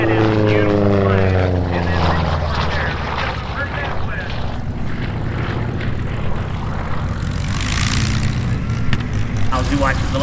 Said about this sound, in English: our P-47 comes right down there below the treetops, accelerating out to max speed